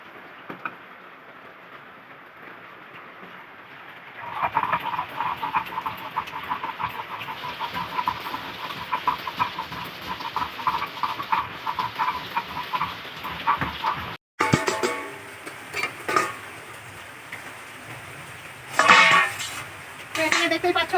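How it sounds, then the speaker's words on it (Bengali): Mustard seeds being ground on a stone grinding slab, a steady scraping, rolling grind close by that runs for several seconds, then a brief break and sharper scrapes and knocks toward the end. "তো এখন সরষেটা বেটে নিচ্ছি।"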